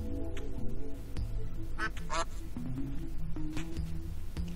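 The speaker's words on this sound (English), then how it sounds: "it's an actual duck!" A duck in the Terraria video game quacks a few short, nasal times over a steady backdrop of game music, with a person talking intermittently.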